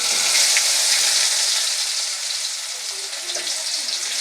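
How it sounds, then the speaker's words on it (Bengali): A dense, hissing sizzle of whole spices and cumin seeds frying in hot oil fills the scene, loud and even, with no talking. "গোটা জিরে দিয়ে এটাকে এক থেকে দু মিনিট আমি হালকা ভেজে নেবো"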